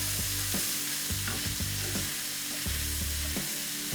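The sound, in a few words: sliced red onion and peppers stir-frying in oil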